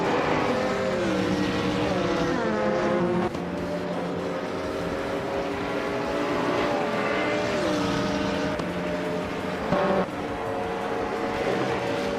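A 2016 Ligier JS P2 race car screams through its gears in a racing video game, its loud, close engine note climbing and dropping repeatedly with sharp shifts, with no voices over it.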